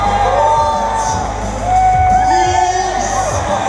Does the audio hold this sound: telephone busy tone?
no